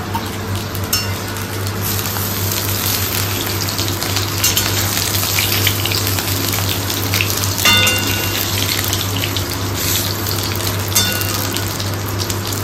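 Oil left over from frying hilsa fish sizzles and crackles steadily in a pan after a little turmeric is added, a dense continuous hiss with occasional sharper pops, no talking.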